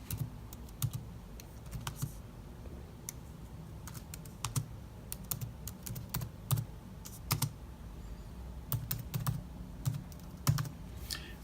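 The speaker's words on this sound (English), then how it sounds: "that was on the 2015 Mac" Typing on a 2015 MacBook Pro keyboard produces quiet, close clicking keystrokes in irregular bursts and short pauses, with no talking over them.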